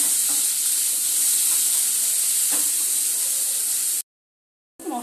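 Green chillies pop and spatter as they fry in hot oil, with a loud, steady sizzle and scattered sharp crackles. It cuts to silence near the end, then the sizzling briefly resumes.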